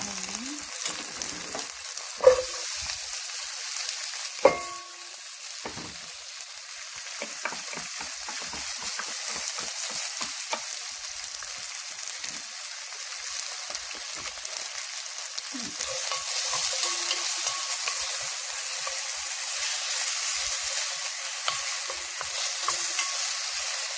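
Onions and garlic frying in a pot for one pot chicken biryani, a steady close hiss and crackle of sizzling throughout, with a few clinks and scrapes of stirring early on.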